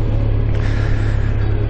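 A Honda CB1300 SB SP motorcycle engine idles nearby, a steady low rumble with no revving, continuous and alone.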